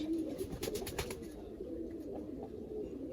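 A female pigeon coos close by, a soft, steady rolling murmur throughout, with faint background noise and no voices.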